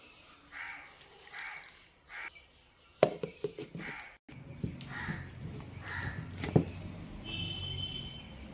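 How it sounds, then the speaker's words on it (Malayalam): Several crow caws at a distance, spaced out over a quiet background, with a few sharp clinks and a low rumbling stretch midway. "കാക്ക പുറത്തുനിന്ന് കരയ്ക്കുന്നുണ്ട്"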